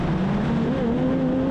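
Race cars in a Scottish motor race make a continuous engine drone whose pitch rises steadily as they accelerate nearby, loud and without voices.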